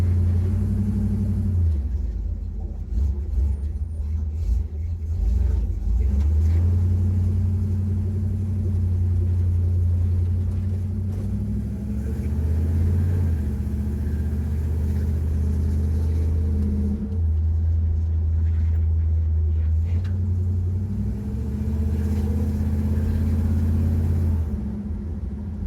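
A Chevrolet C10 truck's carbureted small-block engine runs at a steady low idle, a deep continuous rumble with a couple of brief throttle rises, heard up close.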